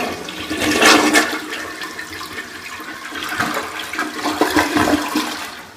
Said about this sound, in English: So you can give it a flush.